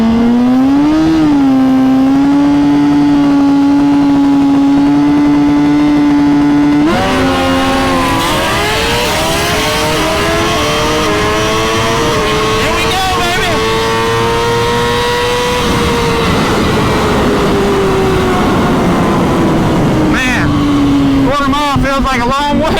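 A 2020 Suzuki GSX-R 1000 motorcycle accelerates hard, its engine note climbing steadily through the gears with sharp shift breaks, loud and close with wind rush, while a rider talks over it.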